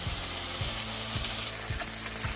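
Skate fish fillet frying in a pan with capers and lemon butter, a steady close sizzle running throughout with soft rhythmic clicks or taps from the pan repeating about every half second.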